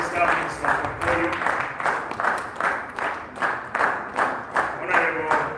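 A crowd at a formal ceremony applauds the Vice President, Deputy Prime Minister and Minister of Petroleum, a steady rhythmic clapping that pulses evenly throughout, fairly close and full, with talk and crowd noise mixed underneath.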